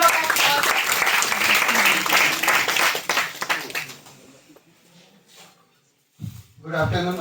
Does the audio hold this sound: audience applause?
yes